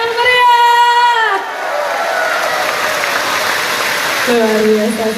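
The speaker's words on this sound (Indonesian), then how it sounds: "Beri tepuk tangan yang meriah." Audience at a company awards ceremony applauding in a dense, continuous wash of clapping, loud and near, with a sung or announced melodic voice over the start and end.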